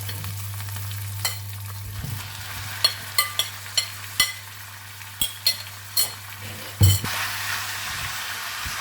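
Minced pork stir-fried with holy basil in a pan sizzles steadily up close, broken by a rapid string of spatula scrapes and clinks against the pan, with no talking.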